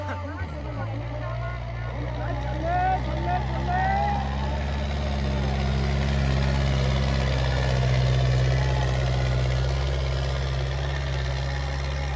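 Tractor engine running at a trolley pulling contest in Nandpur Kalour, Fatehgarh Sahib, a loud, steady, deep idling rumble with a chugging pulse under a voice.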